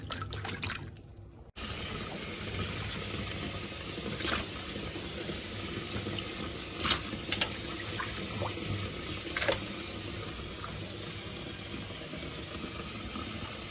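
Gherkins being washed in water for pickling, a steady running and splashing water sound with a few clinks and knocks, close and moderately quiet, with no talking.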